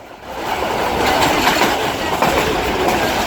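Sukkur Express passenger train running on rails out of Karachi, a steady loud rumble of wheels and carriage noise heard from aboard, with faint clicking over the joints.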